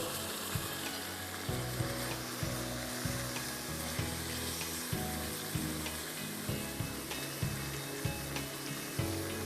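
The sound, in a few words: cooked chicken frying in a pan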